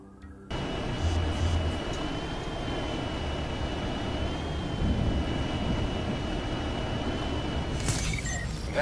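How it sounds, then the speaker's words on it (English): A surveillance drone flies overhead with a steady, loud engine drone and whine that holds level throughout, sounding close and continuous. "That's a surveillance drone."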